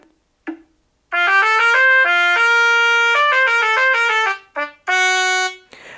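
A synthesized trumpet-like melody from a music-scanning app's score playback plays a quick phrase of bright brassy notes, with brief pauses and a final sustained tone, clear and close.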